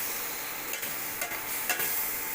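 Potatoes and spices being stirred and fried in a pan for a fish curry, a steady close sizzle with a few soft scraping stirs.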